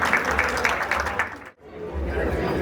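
Audience applause at a Lohri festival celebration held by a Sikh women's group, a dense steady patter of many hands clapping at close range, briefly dipping to near silence midway before swelling back.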